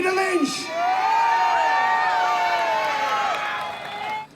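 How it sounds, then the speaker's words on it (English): Crowd at a British patriots rally cheering loudly and steadily, a sustained roar with shouts and whoops that swells then fades after a few seconds. "Let's have a massive cheer for Peter Lynch"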